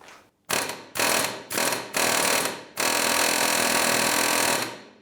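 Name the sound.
pneumatic air hammer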